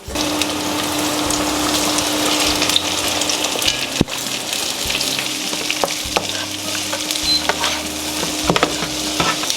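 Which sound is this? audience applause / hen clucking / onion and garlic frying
onion and garlic frying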